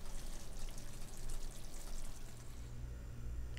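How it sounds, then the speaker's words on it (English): Picadillo simmers in a pan with a faint, steady bubbling and crackle, soft and continuous with a low hum underneath. "So, gonna let this simmer for another 10 minutes for about a 30-minute cook time"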